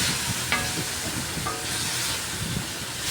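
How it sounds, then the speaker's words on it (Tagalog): Chicken and shrimp chop suey is stirred in a hot pan under a loud, continuous hiss and sizzle, with a few soft scrapes of the spatula close by and no voices. "Then haluin na po natin ulit."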